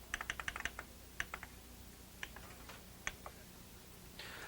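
Buttons on a Kurzweil K2600 synthesizer are pressed in a quick run of small plastic clicks, followed by a few spaced single clicks, close and quiet, with a brief soft hiss at the end.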